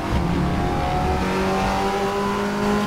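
A race car in the RaceRoom racing game under hard braking, its engine droning loud and steady with shifting tonal whine throughout, no voices.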